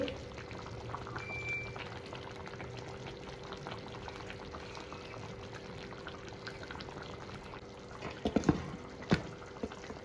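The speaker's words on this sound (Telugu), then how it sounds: "దింపిన 2 నిమిషాల వరకు ఉడుకుతూనే ఉంది" Fish curry made with Krishna river fish bubbles steadily in a clay pot just taken off the heat, with a continuous low boil that rises into a few louder bursts of bubbling near the end.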